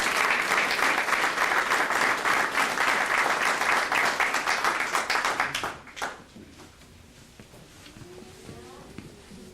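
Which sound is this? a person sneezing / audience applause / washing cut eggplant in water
audience applause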